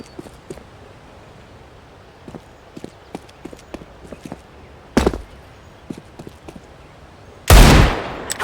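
Counter-Strike: Global Offensive gunfire in a Wingman match on the Crete map: light footstep taps lead to a sharp burst of shots, then a louder, longer volley near the end.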